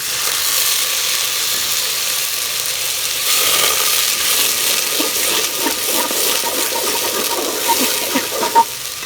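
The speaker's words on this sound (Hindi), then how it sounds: "तो मुझे थोड़ा सा इसमें पानी ऐड करना पड़ना है।" Water added to a pan of sizzling chopped tomato and garlic-ginger masala, a loud continuous hissing sizzle that swells as the water hits, with bubbling crackles after.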